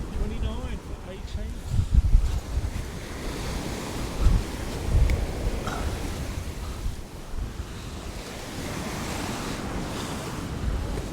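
Sea waves surge and wash onto the beach at Clacton-on-Sea during a beach fishing match, a continuous rolling roar with gusts of wind buffeting the microphone.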